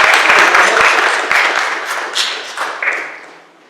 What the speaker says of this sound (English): Round of applause for Felicity.